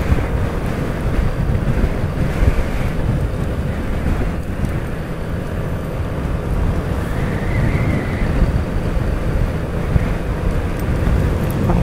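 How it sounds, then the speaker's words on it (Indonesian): Strong wind buffets the microphone throughout a solo motorcycle ride on an alternative project road near a dam channel, a steady loud broadband roar with no speech. "Anginnya gede banget"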